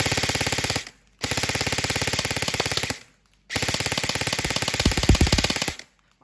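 An E&C 827 Gen2 airsoft rifle fires three long full-auto bursts of rapid, rattling shots, with short silent gaps between them. The sound is close and loud.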